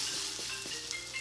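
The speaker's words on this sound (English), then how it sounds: "Let that fry for a minute." Spicy French toast frying in a pan, a steady close sizzle with a few faint pops, no voices.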